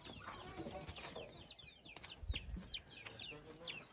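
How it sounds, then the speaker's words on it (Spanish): Broody hens cluck and chatter in quick, scattered calls, faint and somewhat distant, with low rustling noise in the background, in the Huasteca Potosina region of Mexico. "Milo, pero tienen gallo, nomás están culecas"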